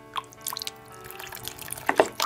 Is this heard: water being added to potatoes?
yes